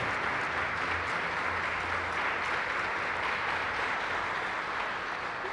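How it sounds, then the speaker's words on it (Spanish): A Catholic congregation at a parish Mass in Cali applauds in thanks to God, a dense, steady roar of many hands clapping that holds evenly throughout. "a que demos el aplauso de agradecimiento a Dios"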